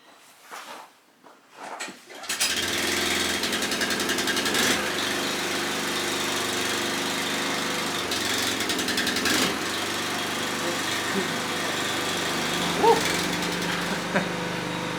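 A motor starts up after a few quiet knocks and then drones steadily, loud and close, like a boat engine running, on a boat trip to Vrelo Cave in North Macedonia.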